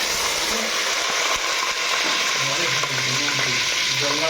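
Potatoes fry in hot oil in a pan for chicken curry, a loud continuous sizzle and crackle with some stirring clatter, close and steady throughout.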